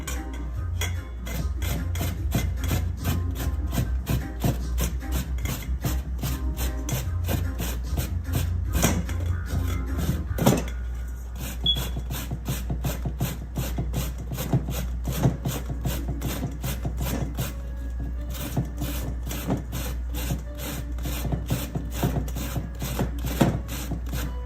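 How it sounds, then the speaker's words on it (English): Pumpkin grated on a hand grater, a long run of quick, even rasping strokes close up, repeated rhythmically with a brief pause midway, over a low steady background hum and no talk. "I'm going to go ahead and start to grate on my pumpkin."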